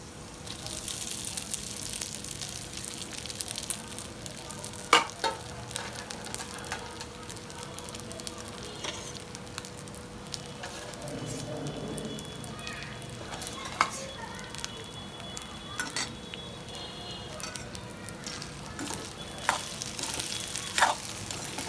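Sabudana and potatoes sautéing in hot oil in a pan, a steady soft sizzle running throughout with occasional clinks and scrapes of stirring, close and moderately quiet.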